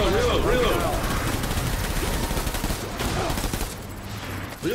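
Rapid automatic gunfire crackles in Death Stranding during a firefight, continuous dense shots close and loud, with voices talking over the shooting.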